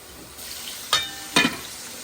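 Spices with curry powder frying in a pan, a low steady sizzle broken by two brief scraping stirs, close and fairly quiet.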